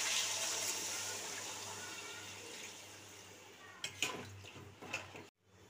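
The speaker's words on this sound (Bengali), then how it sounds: "আমি জল ঢেলে দিচ্ছি।" Water poured into a pan of spiced potatoes cooking for a Bengali hilsa fish curry, a soft steady hiss and splash that fades, then a few clinks before stopping.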